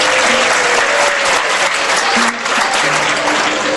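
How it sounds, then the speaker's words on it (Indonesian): Audience applause during an Islamic talk by Yusuf Mansur, a steady, loud wash of many hands clapping that dips briefly midway and resumes. "Tepuk tangan nggak apa-apa."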